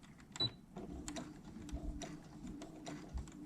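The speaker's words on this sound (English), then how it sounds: "going to do a little back stitch" A sewing machine runs a short back stitch along the edge of a pillowcase, a quiet, steady mechanical whir with faint ticking of the needle mechanism, close by and with no talk over it.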